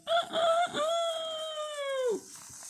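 A voice imitates a rooster's crow: a long, loud, rising-then-sustained call that drops off sharply at the end, with no other sounds around it.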